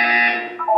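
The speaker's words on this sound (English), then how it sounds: "You will hear a buzzer." A buzzer in the Portal 2 video game gives one steady electronic tone that lasts nearly a second, then shifts briefly in pitch near the end. It is loud and close, with no talk over it.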